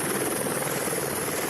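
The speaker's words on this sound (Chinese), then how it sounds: "消防直升机飞伫空中" A fire department rescue helicopter flies over mountainous terrain in Brazil, its rotor and engine a steady, loud, continuous roar with no talk.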